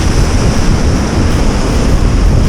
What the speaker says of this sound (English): where the waves are breaking into that white water